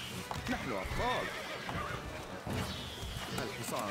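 A horse in the game Stronghold: Crusader neighs in a few short whinnies over hoofbeats, faint and mixed with voices talking or chanting throughout.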